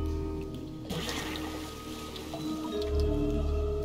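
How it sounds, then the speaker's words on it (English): In the Return to Monkey Island video game, a character jumps into deep water with a sudden wet splash and squish, followed by bubbling and submerged rumbling over a steady game music bed. "Jump in the water."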